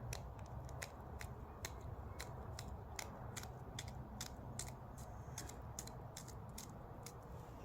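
Green chillies being finely chopped produce a rapid, irregular series of crisp knife clicks over a low steady hum, close and quiet, with no talking.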